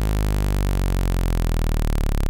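Arturia MiniBrute 2 analog synthesizer tone with its pitch swept by fast LFO modulation, a dense buzzing harmonic drone that wobbles steadily and stays loud and continuous throughout.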